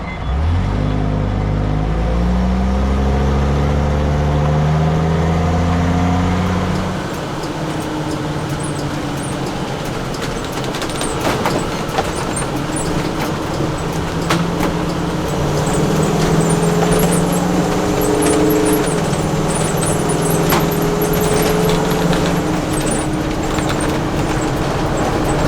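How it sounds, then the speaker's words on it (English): An RV cruises on the interstate, buffeted by passing traffic: a loud, steady road roar and engine drone with shifting tones from vehicles going by, and no voices. "The next few clips will show what it's like driving the RV on the interstate and dealing with turbulence from traffic."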